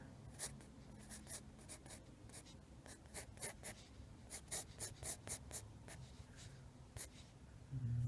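A pencil scratches across paper in quick, uneven strokes and short scribbles, close and quiet, while a cartoon figure's back and bowl haircut are drawn; no talk.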